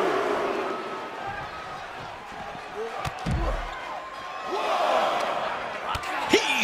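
A forearm smash lands in the WWE 2K23 wrestling video game, a single heavy thud amid arena crowd noise, with a commentator talking over the action.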